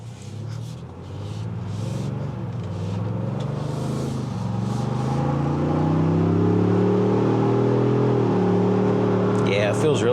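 A 2025 Ford Bronco Stroppe Edition accelerating at moderate throttle, its engine rumble rising steadily in pitch and loudness from inside the cabin, with talking over it.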